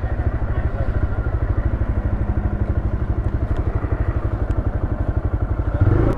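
A TVS Raider 125 motorcycle rides along a highway, its single-cylinder engine thumping in a fast, even pulse with steady wind rush, close and continuous throughout.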